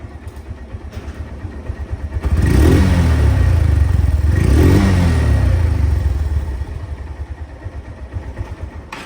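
A second-hand Honda Hornet motorcycle idles close by, then swells through two strong revs before settling back to a steady idle. The engine is loud and heard alone, with no voices.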